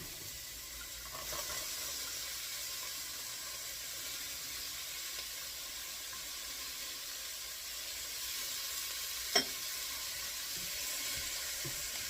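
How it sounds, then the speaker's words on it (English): Chopped onion and celery sauté in a pan with a steady, even sizzle and hiss that runs throughout, broken only by one brief sharp click near the end, with no talking. "saute these until they are soft and translucent"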